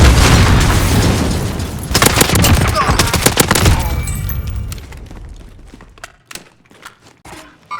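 A demolition charge detonates in the shooter game Gunzone, landing as a loud booming blast amid dense gunfire and battle noise, then fading into scattered sharp shots and cracks.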